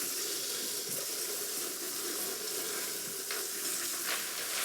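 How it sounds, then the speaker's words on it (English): A mixture is whisked in a hot pan over a continuous hissing sizzle, with occasional faint scrapes of the whisk. No one speaks. "That's it, keep whisking, break it down."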